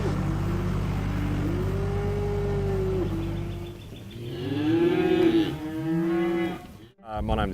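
Beef cattle on a farm in the southern tablelands of New South Wales low in long, drawn-out moos, several overlapping calls one after another, near and loud, with a vehicle engine droning underneath at first.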